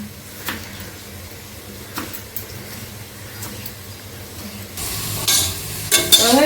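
Onions sautéing in a pan with a few scraping stirs spaced through the clip, growing into a brighter, louder sizzle toward the end, with no voices.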